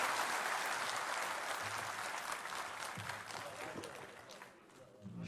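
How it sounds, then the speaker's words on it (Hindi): An audience claps loudly and steadily after a speech, the applause fading slightly toward the end. "अशोक के लिए एक जोरदार ताली बजा दीजिए जरा सा।"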